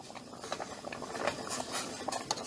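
A utensil stirs melting chocolate in a pan, giving soft patter and light scraping with faint bubbling and hiss, quiet and close up.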